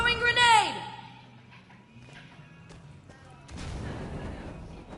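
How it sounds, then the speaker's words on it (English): A grenade goes off in the Borderlands 2 shooter game: a voice shouts first, then a loud, noisy blast hits and lingers as a rough roar to the end, with scattered clicks and game sounds between. "Throwing grenade!"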